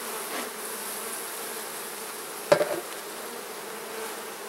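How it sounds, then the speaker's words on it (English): Honey bees hum in a steady, even drone around an opened hive, close and continuous, with a single sharp knock of hive equipment partway through. "These bees just don't want to get out of the way"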